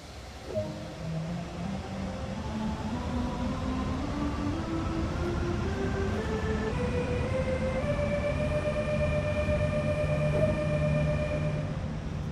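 An electric locomotive on the Hamburg–Lübeck main line in a train simulator game starts moving, its traction motor whine rising steadily in pitch over a constant rumble, with no talking.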